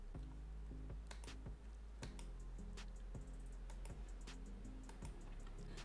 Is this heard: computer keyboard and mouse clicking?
yes